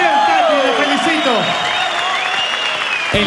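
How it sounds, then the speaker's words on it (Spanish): Audience applause for Katy Kovalesco at a Teleton telethon, a steady wash of clapping and crowd noise throughout, close and fairly loud, with brief tonal voices or music at the start. "Un aplauso para Katy Kovalesco"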